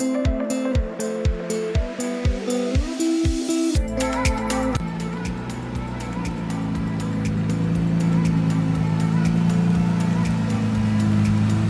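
Rapid rhythmic clicking gives way to the sustained rumble of a wrecked Nissan GTR being driven into a garage. The engine drone swells steadily louder as it comes inside.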